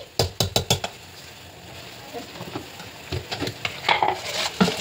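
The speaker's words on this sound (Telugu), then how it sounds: "తరువాత స్మాష్ చేసిన పప్పుని కలపాలి" Mashed lentils stirred in a pan, opening with a quick run of sharp knocks of the utensil against the pan, then softer scraping and a low sizzle with further clusters of taps, close and fairly loud.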